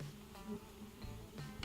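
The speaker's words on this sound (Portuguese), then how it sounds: "essa é a revoada que ela faz em torno da gente aí, mas são abelhas bem mansas" Black mandaguari stingless bees swarm and fly around people near an open hive with brood combs, a faint steady buzzing hum with brief louder passes of individual bees close by.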